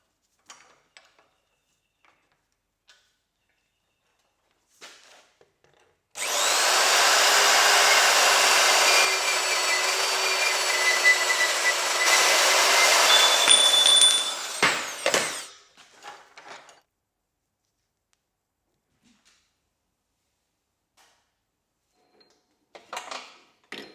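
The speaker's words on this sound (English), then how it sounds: "I'll now take it over to the vise and use the electric bandsaw to cut off the excess." Electric bandsaw cutting excess metal held in a vise in a lathe workshop, a steady loud whirring grind lasting about nine seconds, starting and stopping abruptly, with faint clicks and handling noises around it.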